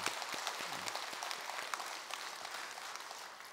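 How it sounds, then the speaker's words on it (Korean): Applause from a seated audience at a Sunday dharma talk in Jogyesa temple, a steady wash of many hands clapping at moderate volume, continuous and slightly distant throughout. "우리 스스로 박수 한번 쳐줍시다"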